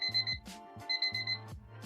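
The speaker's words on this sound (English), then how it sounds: "And there goes my alarm." A morning alarm clock beeps in quick, rhythmic electronic bursts, close and clear, repeating in a steady pattern with no talking over it.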